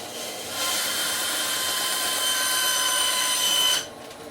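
Power saw cutting stock, spinning up after a quiet start into a sustained high whining cut for about three seconds before stopping abruptly.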